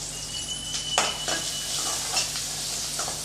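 Small shallots sizzling in hot oil in a pan for a drumstick leaf stir-fry, a steady bright hiss broken by a few sharp scrapes and clinks of a spoon stirring, close and without talk.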